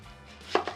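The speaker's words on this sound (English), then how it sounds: "we're gonna get some onions prepped here." A knife chops a sweet onion on a cutting board, two quick close knocks over a faint steady background hum.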